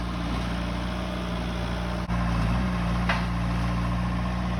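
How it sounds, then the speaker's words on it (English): Diesel engine of a John Deere tracked skid steer with a brush cutter attachment idles steadily outdoors, a constant low drone heard from close by with no talking. "Heavy duty machine, John Deere track machine."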